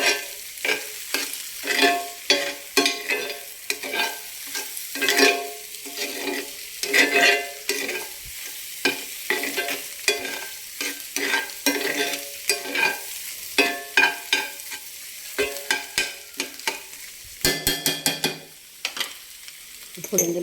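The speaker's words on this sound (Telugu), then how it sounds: "ఇప్పుడు కలిపేసుకోవచ్చు మొత్తం." Egg bhurji of scrambled egg and onion being stirred in a frying pan, with repeated scraping strokes of a spatula in an uneven rhythm over a constant close sizzle.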